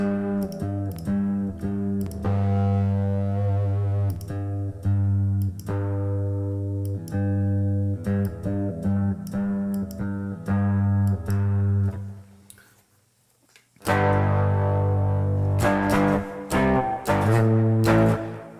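A buzzy distortion effect pedal on electric guitar sounds sustained, gritty held notes in a pop beat. The notes break off briefly near the end, then return louder, with no talking.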